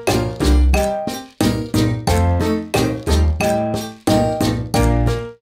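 Plucked guitar chords in a Latin rap beat strike in a steady repeating rhythm with deep bass thumps underneath, loud and close with no voices.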